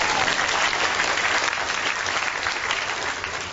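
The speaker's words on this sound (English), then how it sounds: "give her a nice round of applause" An audience applauds a volunteer at a mind-reading show, a dense, steady burst of clapping from a full crowd that holds evenly loud for a few seconds and then eases slightly.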